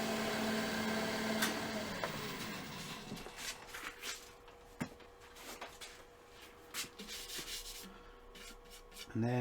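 A turned wooden bowl with blue spirit stain is rubbed by hand on a slow or stopped lathe, giving steady close scrubbing and abrasive swishes with uneven bursts and a few knocks, no speech.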